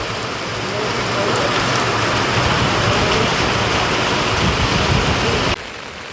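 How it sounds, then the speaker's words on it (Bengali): Heavy monsoon rain pours down at Jhaluarber rail station in the Dooars, surrounded by trees, a dense, loud, unbroken hiss that holds steady and then drops sharply near the end. "এখন মুষলধারে এখানে বৃষ্টি হচ্ছে"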